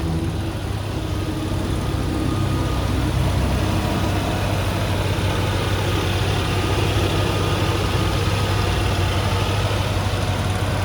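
A restored 1968 Buick GS 400 Holiday Coupe's V8 idles smooth and even, a steady low rumble held for the whole stretch with no voices over it.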